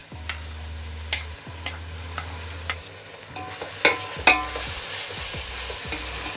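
Onions and ginger garlic paste frying in a pan for chicken dum biryani, a soft steady sizzle under scattered clinks and scrapes of a spoon stirring, close up and with no talking.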